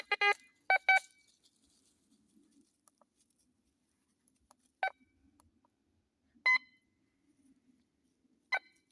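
A metal detector sweeping over a buried object in a forest gives short electronic beeps. A quick cluster opens the passage, followed by single beeps spaced by near silence.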